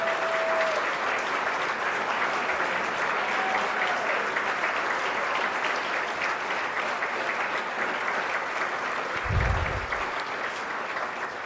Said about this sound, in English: round of applause from everybody here.